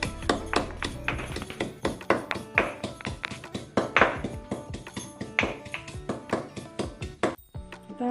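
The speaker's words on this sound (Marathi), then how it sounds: "तो आपण ठेचून घेऊया." Garlic cloves crushed with repeated sharp pounding taps against a hard surface, a steady close rhythm of strikes continuing for several seconds with no talk.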